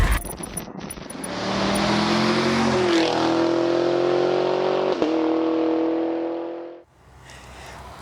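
The engine of a 2003 Hummer H1 4x4 revs up loudly nearby, its pitch climbing through a few steps and holding a strong steady roar before cutting off abruptly near the end.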